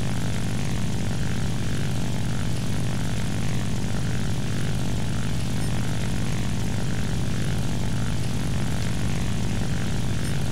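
Propeller fighter engine droning steadily and loudly throughout in War Thunder, with the plane maneuvering during a replay, a continuous airscrew roar that never lets up.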